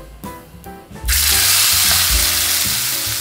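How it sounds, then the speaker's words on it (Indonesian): Steak hits hot olive oil in a pan with a sudden loud sizzle that follows a few soft clunks, then keeps frying steadily and close. "saat memasukkan daging, kalian akan mendengar sizzle seperti ini"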